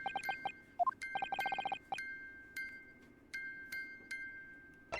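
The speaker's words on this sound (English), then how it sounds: "Just what relevance do you propose this woeful chiming has on this case?" Music box in The Great Ace Attorney game plinks out a run of bright, bell-like chimes, quick clusters of notes followed by slower, sparse tones ringing over a faint sustained hum.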